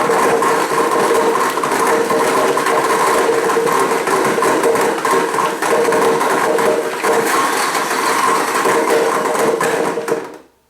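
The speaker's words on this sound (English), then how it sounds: "in the BlendTech blender here" A Blendtec blender chops whole carrots, a loud, continuous grinding whir that holds steady for about ten seconds before cutting off abruptly.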